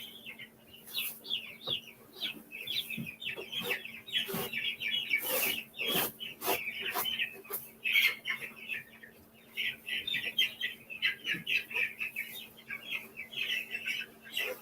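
Many two-week-old meat chickens peep and cluck in a busy chorus, soft and continuous, with scattered sharp knocks and rustles nearby.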